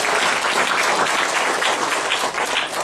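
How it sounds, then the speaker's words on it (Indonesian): Applause from a congregation at a church seminar, a dense steady patter of clapping hands that holds evenly throughout with no speech over it. "Tepuk tangan bagi Tuhan Yesus"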